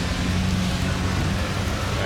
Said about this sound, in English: the rain has caught me